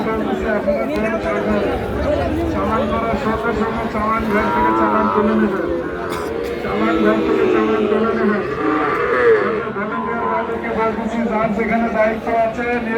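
Several Sahiwal bull calves and other cattle moo loudly and repeatedly at a livestock market over a busy crowd of chattering voices, with people talking throughout.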